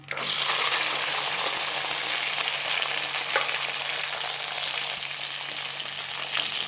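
Garlic hits a pan of oil for garlic kulambu and sizzles loudly at once, then keeps up a dense, bright frying hiss that eases slightly toward the end, with no talking.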